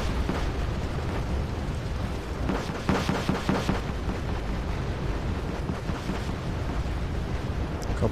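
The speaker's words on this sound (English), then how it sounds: "At this point, I don't think it matters much where I throw down cluster bombs." Cluster bombs burst in the war strategy game Wargame Red Dragon, a dense rolling barrage of rumbling explosions and crackling pops that continues without letup, loud and close, with no talking.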